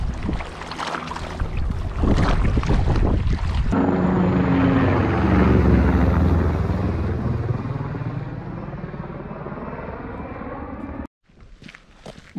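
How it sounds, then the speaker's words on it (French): Military helicopters passing low over a lake, a loud broadband rotor roar that builds quickly, holds, then fades before cutting off, heard outdoors with wind and water around. "Après 2 passages d'hélico militaires."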